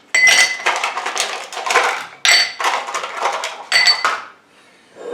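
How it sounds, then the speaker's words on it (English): Ice cubes clatter into a cocktail glass over muddled lime and mint, several loud bright clinking bursts in quick succession, then a short quiet pause. "Now I can put in my ice cubes."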